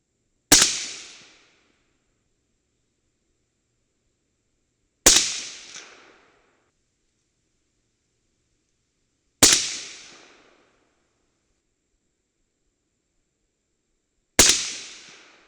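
A rifle fires four evenly spaced, loud shots for a load-test group, each a sharp crack followed by a short decay and silence.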